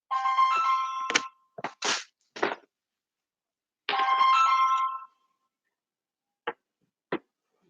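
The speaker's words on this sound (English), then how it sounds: "That's my phone." A phone rings with a bright melodic ringtone in several loud bursts, followed by a few short, quieter chimes.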